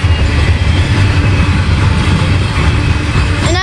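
A slow freight train of hopper cars rolls past at about 25 miles an hour near Halethorpe, Maryland, a steady, close, low rumble of wheels and cars with no voices, and a faint squeal creeping in at the end.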